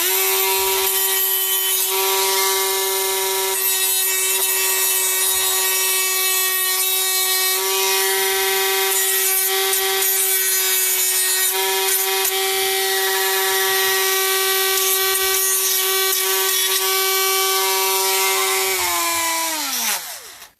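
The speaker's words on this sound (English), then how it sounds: "I'm just going to Dremel that little extract that's poking off the corner there." A Dremel rotary tool grinds a protruding corner off a trophy, a loud, steady high-pitched whine that holds for about twenty seconds before winding down at the end.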